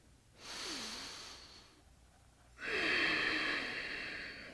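Two long, deep breaths during a posture exercise, a slow inhale followed by a fuller, louder exhale, close and airy, with no talk.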